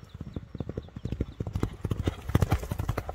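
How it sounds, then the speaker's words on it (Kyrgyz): A fast horse gallops with rapid, rhythmic hoofbeats thudding close and loud on the ground, steady throughout. "Тез ат экен, акыйкат."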